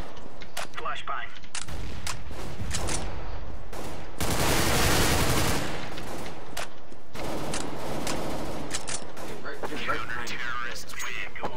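Gunfire in a Counter-Strike-style video game match: bursts of shots and a loud blast-like stretch, with a player talking over the action throughout.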